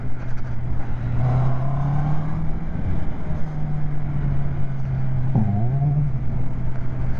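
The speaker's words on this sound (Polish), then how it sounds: "daję gazu, a mi motocykl rwie do góry i się sam wyprostowuje" A Honda CB650R motorcycle on a night ride hums steadily, then its engine note climbs as the throttle opens, dips briefly, and rises again in a sharp rev over constant road and wind noise.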